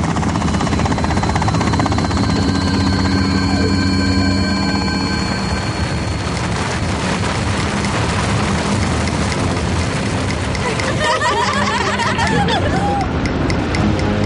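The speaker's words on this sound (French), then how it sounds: "Les vibrations de l'hélico viennent de déclencher une avalanche." A cartoon helicopter flies with a loud, continuous rotor and engine roar. It mixes with dense music and effects, and voices babble underneath.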